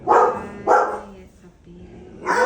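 Puppies yap in a few close, loud barks spaced under a second apart, with a quieter gap before a final yelp.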